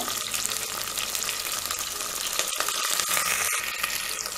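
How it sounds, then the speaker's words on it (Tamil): Shallots and curry leaves fry in hot oil for a prawn and drumstick kuzhambu, giving a dense, loud, continuous sizzle with faint crackles and stirring throughout. "எண்ணெய் பொரிஞ்சதுக்கப்புறமா நம்ம எடுத்து வச்சிருக்க இந்த சின்ன வெங்காயத்தை இதோட போட்டுக்கோங்க"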